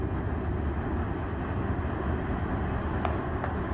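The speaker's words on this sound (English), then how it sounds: "Yep, grain shuttle train." Grain shuttle freight train rolling past, a steady, loud low rumble of wagons with two brief sharp metallic squeals near the end; no talking.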